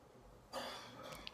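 A woman recovering from COVID-19 coughs hard to bring up a mucus plug: a quiet breath, then a harsh, sustained wet cough that starts abruptly midway and continues forcefully, with a sharp final burst, close and alone.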